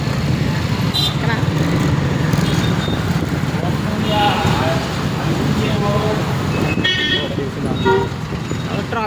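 Busy roadway traffic on a bypass road in Rajahmundry, with a constant rumble of cars, buses and motorcycles and repeated horn toots near and far, while people talk over it.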